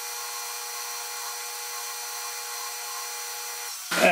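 A bench grinder in a metalworking shop spins with a steady, even motor whine and hum, then a brief rough burst right at the end as a metal part's edges are taken off.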